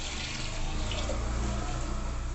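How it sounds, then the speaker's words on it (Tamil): A cup of water is poured into a pressure cooker holding moong dal, a steady continuous rushing pour, close and fairly loud, with no break. "இந்த கப்பில் 1 கப் தண்ணி ஊற்றுறேன்."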